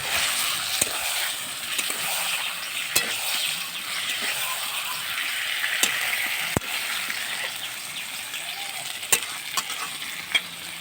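Chicken frying in a pan with water poured in, giving a loud, steady sizzle and hiss close up, punctuated by sharp spatula scrapes and clicks of stirring at irregular intervals, with no voices.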